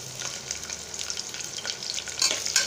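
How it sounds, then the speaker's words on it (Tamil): Long slices of two large onions frying in oil with spices in a pan, a steady close sizzle with occasional stirring scrapes, no talking. "இப்போ அது வணங்கினோன்னு பார்த்திங்கன்னா 2 பெரிய வெங்காயம் நீள நீளமாக இருந்தது."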